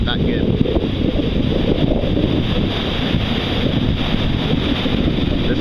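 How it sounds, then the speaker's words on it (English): Strong wind buffets the microphone at a surf beach with crashing waves, a loud continuous low roar that never lets up across the whole stretch. "This is crazy surf out here today. It's really windy."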